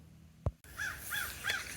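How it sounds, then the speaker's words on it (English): A sharp thump, then a crow caws three or four times in a row, loud and fairly close, with no talking. "The crow's having a field day over there."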